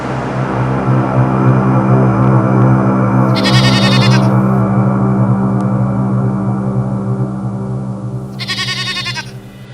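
A goat bleats loudly and close by in long, wavering, drawn-out cries, with a high rattling noise breaking in twice.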